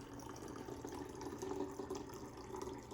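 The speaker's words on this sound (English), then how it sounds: "we're gonna take some water here and we're gonna add the water into our bottle until it's about half full" Water poured into a bottle for an Alka-Seltzer lava lamp, a steady continuous trickle and splash running for the whole stretch at moderate level, with no voices.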